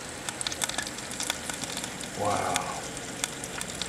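A whole chicken sizzles inside a KitchenAid convection toaster oven with a soft, steady crackle and light pops, while a person briefly exclaims.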